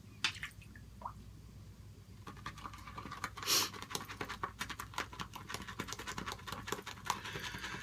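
Water drips and trickles onto shaving soap, giving irregular light taps and wet squishes close by, with no voices.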